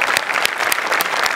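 A loud, sustained burst of audience applause follows a comedy performance on a Marathi stage show, with crisp, dense clapping close to the microphone.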